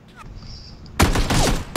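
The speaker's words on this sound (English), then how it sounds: "I don't know how they're shooting me." Gunfire in a shooting video game: a quiet stretch, then a loud dense burst of rapid shots starting about halfway through, with a final short burst at the end.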